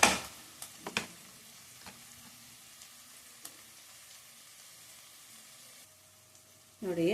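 Onions fry in a pan for dhaba-style palak paneer, a faint steady sizzle with a few clinks and scrapes of a spoon at the start and a louder stir near the end.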